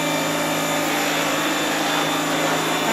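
A pressure water jet washes a kitchen stove, giving a loud, steady hiss and roar that holds evenly for the whole stretch with no talk over it.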